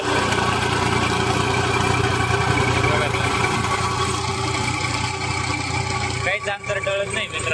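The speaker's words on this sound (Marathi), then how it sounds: "आपण आता रोटावेटर चालू केलं आहे" A Shaktiman rotavator runs behind a New Holland tractor in a field, making a loud, steady engine drone with a constant low rumble that barely wavers and dips briefly near the end.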